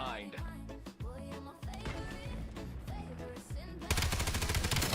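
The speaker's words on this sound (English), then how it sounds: "did I hear someone shooting with a SM suppressor SMG behind me?" Rapid bursts of suppressed submachine-gun fire from a Call of Duty match, a dense run of repeated shots with a thicker, louder flurry near the end, and no talking over it.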